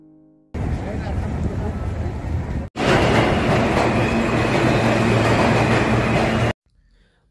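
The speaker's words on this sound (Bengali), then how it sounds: "এই ট্রেনে ওঠার মাধ্যমে আমাদের ফিরতি যাত্রা শুরু করলাম" A train starting a return journey rumbles steadily on its rails, a loud continuous roar with a brief break midway, then cuts off near the end.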